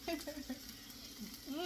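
Onions frying in a pan for a vegetable risotto: a soft, steady sizzle under intermittent talking, quiet and close.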